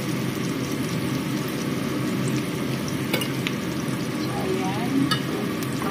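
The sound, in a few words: stirring anchovies frying in a pan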